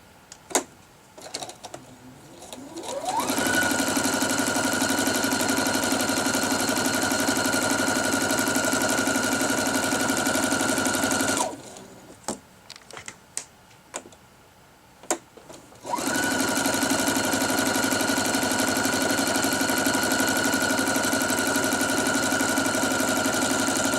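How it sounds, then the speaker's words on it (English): A sewing machine stitches a quarter-inch quilting seam, a loud steady mechanical whir running for about eight seconds, pausing amid handling clicks, then starting up again for another long run. "I'm going to sew 1/4 inch on the other side of the line"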